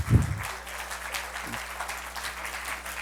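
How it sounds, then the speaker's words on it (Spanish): Audience applause for a volunteer called up front at a science museum event, a moderate, even patter of many hands clapping at mid distance, with a low thump at the start. "Un aplauso aquí"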